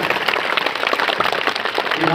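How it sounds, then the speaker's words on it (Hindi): Applause from an audience at an RMC-organised award and felicitation ceremony, a steady dense clapping that fills the whole moment with voices mixed in. "और जोरदार ताली एक बार और हो जाए"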